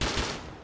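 A short, loud burst of gunfire in Rust, close and harsh, with a rapid blast that quickly fades.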